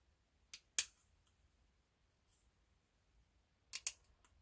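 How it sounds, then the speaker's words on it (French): Scissors snip paper in two quick pairs of crisp cuts, close and clear, separated by about three seconds of near silence. "Je découpe un peu."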